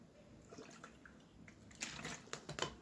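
Someone takes a drink of water, with quiet gulps and small liquid sounds clustered toward the end of a short, faint stretch.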